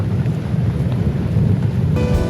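Rain falls steadily on a farm rain garden with standing water, a dense low patter and rush of water that stays even throughout, with no speech.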